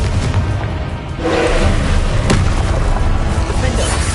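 Confringo blasting spell exploding in the Hogwarts Legacy video game, a loud booming blast with a sharp crack near the middle, set against dense continuous battle noise.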